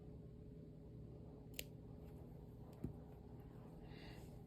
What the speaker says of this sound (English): Now I'm going to cut at an angle